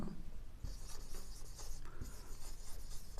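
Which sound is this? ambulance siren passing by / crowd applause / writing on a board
writing on a board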